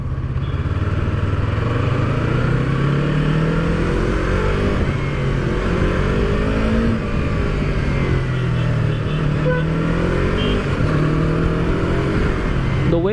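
A Yamaha R3 motorcycle accelerates hard through repeated rising revs and gear changes, its engine loud and close and droning steadily the whole time.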